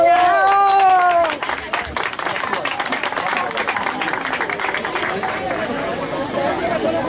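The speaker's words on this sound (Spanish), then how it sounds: "un aplauso para el vecino" At a spring festival recital in La Florida, a crowd claps and cheers after a brief sung or spoken phrase, with scattered applause and chatter continuing throughout.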